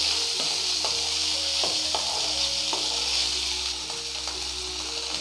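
Pomegranate poriyal stir-frying in a pan, a steady close sizzle with a series of spoon-against-pan knocks and scrapes spaced every half second or so, no talk.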